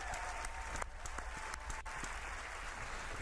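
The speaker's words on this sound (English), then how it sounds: "another round of applause" An audience applauds throughout a live Dishonored 2 gameplay demo at E3 2016, with steady crowd clapping and a few sharper nearby claps.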